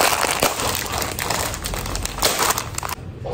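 A plastic pack of braiding hair is torn open and handled, giving close, dense crinkling and crumpling with sharp rustles through most of the moment, ending abruptly.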